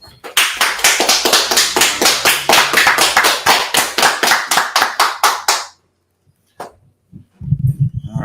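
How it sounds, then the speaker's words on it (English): A crowd claps in a steady, rhythmic unison beat for about six seconds at an outdoor gathering in Washington DC, then stops abruptly, leaving near silence before a low rumble returns. "Let's clap it up."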